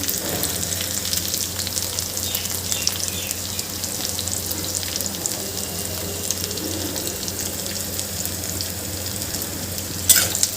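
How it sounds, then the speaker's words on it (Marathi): Onions, green chilies and curry leaves sizzle and fry in a pan for Nagpur-style popat pohe, a steady close crackle with faint stirring scrapes throughout and a brief louder clatter near the end. "हे सगळं आपल्याला छान परतून घ्यायचं आहे शिजवून घ्यायचं आहे"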